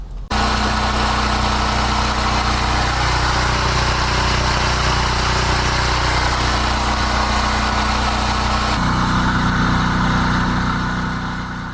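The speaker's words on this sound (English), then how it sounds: "My exhaust fan." An exhaust fan in a home-built studio setup, powered through a power block from a generator, runs as a loud, steady motor drone with a constant hum and broadband whoosh. Near the end the tone shifts slightly and settles.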